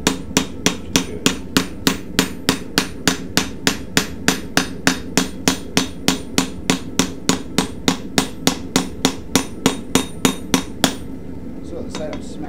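Hot San Mai blade steel is struck by a hammer in a fast, even rhythm of sharp metallic blows, around forty close, loud strikes before the hammering stops and only faint room noise remains.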